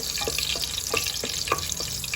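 Whole spices, bay leaves, cinnamon, cardamom and cloves, sizzle in hot oil for a vegetable pulao, with a constant frying hiss and a few soft scraping stirs at a steady pace, close by and without talk.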